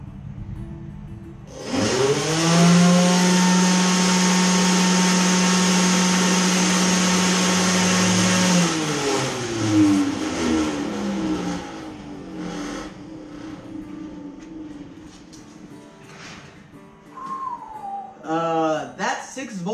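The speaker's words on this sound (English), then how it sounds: "That 6-volt motor just runs on a 12-volt." A 6-volt motor on a feeder, powered by 12 volts, spins up and runs loud and steady with a high whine for several seconds, then winds down and sputters before brief bursts near the end.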